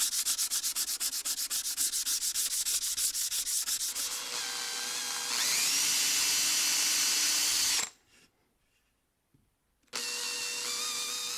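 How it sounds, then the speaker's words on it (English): A power drill whines steadily at high pitch, its tone rising as it bites into steel while drilling and countersinking holes, then stops briefly before starting again. "I need to drill the holes for those and the countersinks as well"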